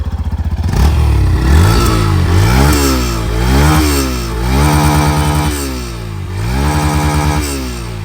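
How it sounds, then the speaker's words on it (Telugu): A 2025 Yamaha FZS Fi Hybrid motorcycle with an aluminium bore block, heard close up, sounds its exhaust as the throttle is blipped repeatedly. The engine revs rise and fall in several loud swells over a steady idle. "ఇప్పుడు ఎగ్జాస్ట్ నోట్ అయితే ఒకసారి వినండి"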